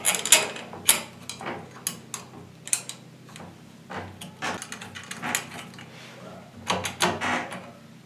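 Screws being tightened while a door handle is fitted: close, irregular clicks, taps and short metallic ratcheting bursts with brief pauses between them, no talking.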